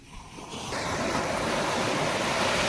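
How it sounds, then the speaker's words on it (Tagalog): Sea waves break on the shore at Pui O beach in Hong Kong, a loud, steady wash of surf that swells after the first moment and holds as a continuous roar, with no voices. "Pero maalon din, no? Maalon."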